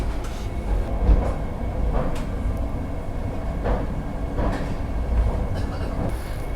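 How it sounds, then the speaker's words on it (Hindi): A Vande Bharat Express train pulls out of Anand Vihar station bound for Ayodhya Cantt, a steady rolling rumble with periodic wheel clacks over rail joints, continuous and moderately loud with no voices. "अपने शार्प टाइम 6:10 पर यहाँ से डिपार्चर ले चुकी है आनंद विहार से सीधा अयोध्या कैंट के लिए वंदे भारत एक्सप्रेस"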